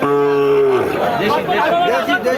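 A cow lets out a long, loud moo up close, followed by a busy mix of voices and animal noise from a crowded livestock market selling heifer calves.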